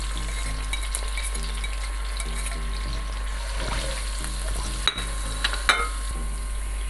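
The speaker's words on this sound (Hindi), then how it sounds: "तो आप इसमें ये अदरक लहसुन का पेस्ट ऐड कर दें" Ginger garlic paste sizzling and frying in hot oil with cumin and whole garam masala spices for a dhaba-style moong dal tadka, a steady close crackle with stirring scrapes and a couple of sharp spits near the end.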